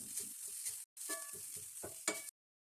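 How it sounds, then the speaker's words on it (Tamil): Curry leaves, grated carrot and ginger fry in a pan for oats idli, with a soft sizzle broken by repeated stirring scrapes and taps, close and fairly quiet, briefly cutting out midway. "நல்லா ஃப்ரை பண்ணிக்கலாம்."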